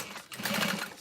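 A sewing machine briefly stitches the bottom panel onto a tote bag, a short, close burst of motor hum and needle chatter lasting under a second.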